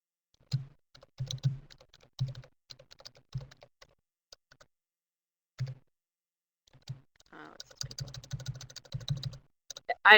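Computer keyboard typing in short bursts of keystrokes separated by pauses, close and clear, with a denser run of rapid taps near the end.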